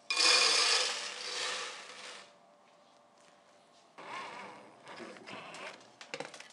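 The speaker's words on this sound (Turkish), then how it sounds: "Maltı döküyorum." Malt grain poured into a hand-assembled malt mill sitting on a wooden board over a bucket: a dense, hissing rush of kernels for about two seconds, followed by quieter scattered rattles and knocks.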